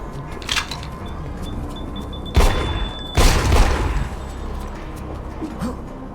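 Sniper rifle fire in the IGI video game, with two heavy, booming shots about a second apart, each trailing off in a long rumbling decay over a low mechanical background.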